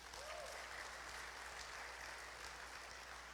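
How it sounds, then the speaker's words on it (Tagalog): A church congregation at a Sunday cell celebration applauds together in a steady, dense wash of clapping that holds evenly throughout, heard somewhat faint and distant. "Sino pong sumasang-ayon sa akin, pumalakpak ng malakas"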